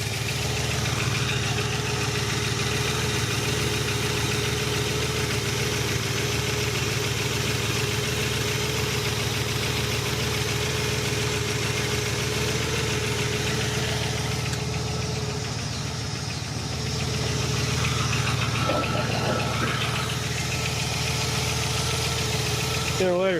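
A 1967 Buick GS340 V8 idles steadily after new valve stem seals, a constant low rumble with a light lifter tap over it, close by, with brief talk near the end.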